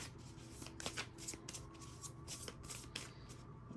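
Tarot cards are shuffled in a quick, crisp riffling flurry of papery bursts, close and fairly quiet, with no talking.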